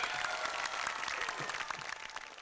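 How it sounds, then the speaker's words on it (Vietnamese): Family game-show audience applauding a child's talent segment, a short, dense burst of clapping at moderate level that tapers slightly as it ends. "Một tràng vỗ tay"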